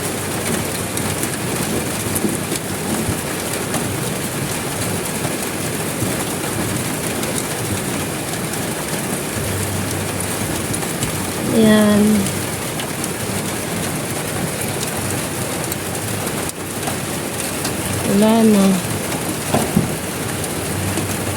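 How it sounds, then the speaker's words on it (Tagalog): Heavy rain pours steadily onto a roof with a large leak, a dense continuous hiss throughout, with two brief louder whistling or squeaking sounds near the middle and end. "Yan, naulan na na ako guys."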